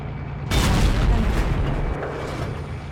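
A tank cannon in a video game fires a single deep boom at the rear of an E-100 heavy tank, hitting suddenly after a short quiet gap and leaving a long rumbling tail.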